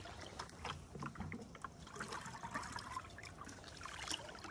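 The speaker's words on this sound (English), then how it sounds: "I need to get water in the bucket" Water trickling and splashing into a bucket, an uneven pouring sound with small gurgles, close by and fairly quiet.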